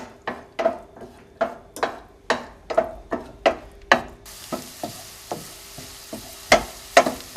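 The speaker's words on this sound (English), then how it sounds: "Okay, so we got our shallots cooking in our olive oil." Small shallots cooking in olive oil in a pan, with a steady sizzle and a series of repeated stirring or scraping strokes about every half second, fairly close and with no talk.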